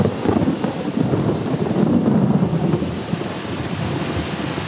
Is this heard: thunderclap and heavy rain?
yes